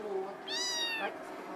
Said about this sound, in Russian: Это кот, да?